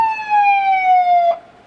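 A police siren sweeps in one long, loud descending wail with strong harmonics, then cuts off abruptly near the end; no voices present.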